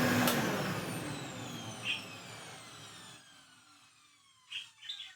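A vintage Hoover 427 cylinder vacuum cleaner winds down from a loud whine with a high screechy, chirping squeal, its falling tones fading over several seconds before a few brief squeaks near the end.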